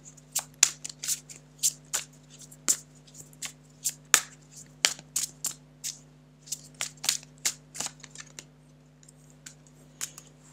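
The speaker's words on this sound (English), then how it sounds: "if I'll talk over shuffling" A tarot deck is shuffled close by in quick, crisp riffling bursts, irregular and repeated over about ten seconds, with a faint steady hum underneath and no talking.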